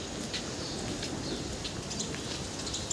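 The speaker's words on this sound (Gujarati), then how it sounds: "અત્યારે ધોધમાર વરસાદ પડી રહ્યો છે" Heavy rain pours steadily outside a Shiva temple, a dense, continuous hiss with scattered drop patter, fairly close and unbroken throughout with no voices.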